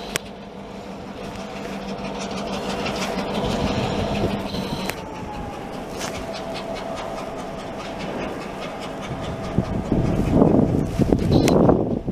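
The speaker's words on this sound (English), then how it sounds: "I don't know why that motor is chugging hard" A vintage EMD diesel switcher locomotive idles and chugs roughly nearby, a heavy uneven throb with clanking and rail noise, growing louder toward the end with some background voices.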